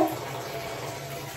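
Water runs steadily from a tap to fill a warm bath at home, a continuous close rushing splash with no voices.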